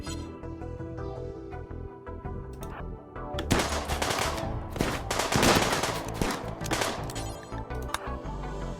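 Gunfire in a RimWorld battle, with a sniper rifle among the weapons: dense bursts of shots stacked over steady game music, building into heavy overlapping fire in the second half.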